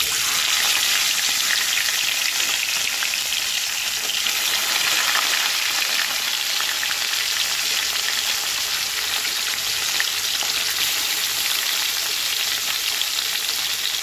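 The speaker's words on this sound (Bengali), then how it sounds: "এখানে আমি একটা কড়াই বসিয়ে সর্ষের তেল দিয়েছি, তেলটা গরম হয়ে গেছে। এবার আমি প্রথমে মাছগুলোকে দিয়ে দেবো।" Fish pieces sizzle loudly in hot mustard oil in a wok, a dense, steady, crackling hiss that runs unbroken and close throughout, with no voices.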